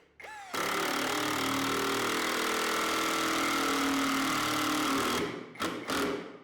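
A cordless OZ impact driver set to its slower speed drives a screw into a 5 by 10 cm block of cambará hardwood, giving a loud, steady whirring drone for about five seconds before stopping with a few short bursts.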